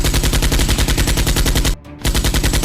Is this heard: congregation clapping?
no